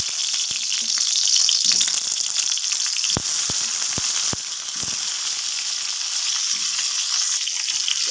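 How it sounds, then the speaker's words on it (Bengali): Eggplant fries in a pan over a low gas flame with a steady, close sizzle, broken by a few sharp crackles and spatters. No one talks. "রেসিপিটা বানানোর জন্য বেগুনটা ভেজে নিতে হবে, ভালো করে ভেজে নেব।"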